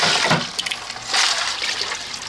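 A fire starter lifted out of a container of ice water, with continuous splashing and dripping water close by, no talking.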